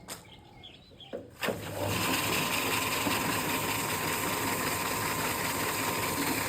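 After a few soft knocks and clicks, the sensor-controlled electric motor of a tank washer switches on and runs with a steady, even whirring hum.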